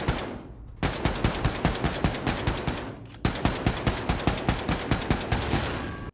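Automatic gunfire in the video game Wolfenstein 2, two loud bursts of rapid, evenly spaced shots separated by brief pauses, close and prominent with no speech.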